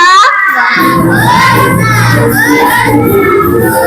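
Fourth-grade pupils in a classroom shout an excited cheer together, their bright overlapping voices loud and close and sustained for several seconds.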